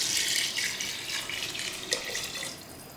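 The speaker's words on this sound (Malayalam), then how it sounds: "അപ്പം നമ്മൾ ഇതിലേക്ക് തിളച്ച വെള്ളമായിട്ട് ഒഴിച്ചത്." Boiling water is poured steadily into a pot of rice for tomato rice, a continuous close splashing stream with no talk over it.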